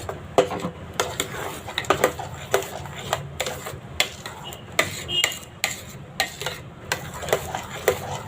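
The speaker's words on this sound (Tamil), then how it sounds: "நல்லா ஓரத்தில் இருக்கிறதெல்லாம் தள்ளி விட்டு நல்லா கலந்து விட்டுக்கலாம்." Jaggery rice sweet being stirred and scraped in a pan, a brisk run of light utensil taps and scrapes recurring at a steady rhythm, close and fairly loud, with no talk over it.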